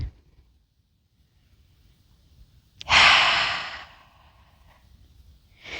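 One slow, deep breath from a kids' yoga session, a long airy exhale after quiet, close to the ear, with a faint intake returning at the end.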